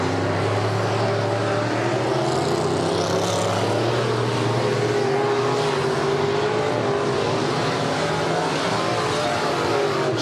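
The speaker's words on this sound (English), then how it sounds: "Sharp-looking hot rod making its way down the back straightaway and into turn 3 and 4." A hot rod race car circles the Maquoketa Speedway oval during Saturday heats, its engine a loud, steady droning roar with a rising and falling pitch as it runs down the back straightaway and into turns three and four.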